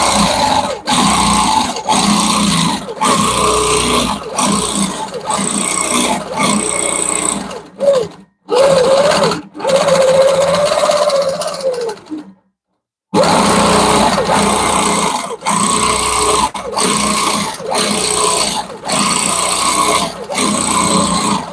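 A longarm quilting machine stitches a quilt, a loud continuous mechanical whir broken by short stops and one longer pause, then resuming steadily.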